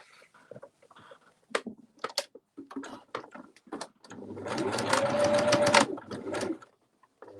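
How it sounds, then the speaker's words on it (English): A sewing machine runs in a steady whirring burst of rapid stitching for a couple of seconds, preceded by quieter handling clicks and rustles. "Then back to my sewing machine."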